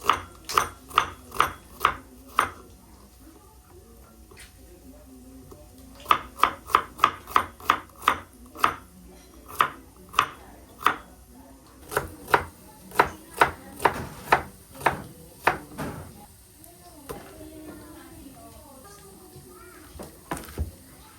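Onions chopped with a knife on a board for pork sisig, sharp close knocks in quick rhythmic bursts separated by short pauses, with no talking.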